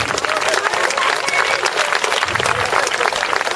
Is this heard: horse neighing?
no